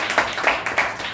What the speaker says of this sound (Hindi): तो इसलिए एक बार मम्मी पापा के लिए जोरदार ताली हो।